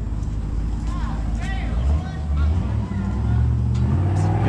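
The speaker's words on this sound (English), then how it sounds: "Mercedes AMG." A Mercedes AMG car engine revving nearby, a loud deep rumble that rises and swells, with voices talking over it.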